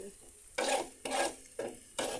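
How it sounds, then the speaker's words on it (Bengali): Onions frying in oil for a fish curry, a steady sizzle broken by four loud scraping stirs in an even rhythm, close and clear, with no talking. "আর এদিকে আপু মাছের জন্য পেঁয়াজটার একটু লাল লাল করে ভেজে নিচ্ছে"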